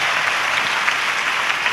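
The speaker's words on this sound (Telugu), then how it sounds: "చప్పట్లు కొడుతూ ప్రభుకి స్తోత్రాలు చెప్తారు." A church congregation at a Good Friday service in Hyderabad claps in praise, giving a steady, dense wash of applause that carries on evenly with no voices above it.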